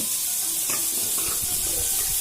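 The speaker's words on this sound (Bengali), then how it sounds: "দু মিনিট পর দেখুন পেঁয়াজের টমেটোটা অনেকটাই ভাজা ভাজা হয়ে এসেছিল এই সময় দিয়ে দেব কেটে রাখা আলু" Freshly cut potato cubes tumble into a pan of frying onion and tomato, giving a steady close sizzle with soft stirring scrapes and clatter throughout, no voices.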